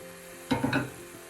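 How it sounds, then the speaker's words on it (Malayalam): Half a kilo of cleaned mutton drops into frying masala in a pan, setting off a sudden loud sizzle with a few quick splutters that fade after about a third of a second, over a quiet hiss. "ഈ സമയം നമുക്ക് വൃത്തിയാക്കി വെച്ചിരിക്കുന്ന 1/2 കിലോ മട്ടൻ ചേർക്കാം."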